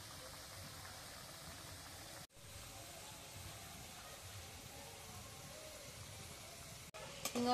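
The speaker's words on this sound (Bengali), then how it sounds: "তেলের মধ্যে একে একে সিঙ্গারাগুলো দিয়ে দেব" Samosas frying in hot oil give a steady, soft sizzle that runs evenly throughout, with two brief dropouts along the way.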